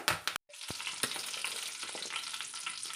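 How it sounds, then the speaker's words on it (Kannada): Mustard seeds and curry leaves hit hot oil in a village-style kitchen. A few sharp crackles and a brief pause give way to a steady, close sizzle that carries on without talk. "ಆಯಿಲ್ ಬಿಸಿಯಾಗಿದೆ ಸ್ವಲ್ಪ ನಾನು ಇದಕ್ಕೆ ಸಾಸಿವೆನ ಹಾಕ್ಕೊಳ್ತೀನಿ"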